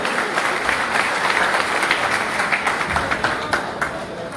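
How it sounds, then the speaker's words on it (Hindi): A gathering's audience gives dense, steady applause for a core committee member being welcomed. The clapping is sustained and fairly loud throughout, with individual claps popping out of the wash and no talk over it. "जनाब अहमद नदीम भट्टी साहब, बिल्कुल तालियां होनी चाहिए उनके लिए।"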